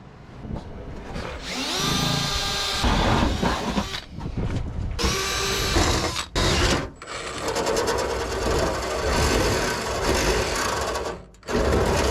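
Cutting out the shifter cover pocket on a 1972 Jeep CJ5: a loud, continuous power-tool whine grinding through metal in long bursts with brief pauses, close up and without speech.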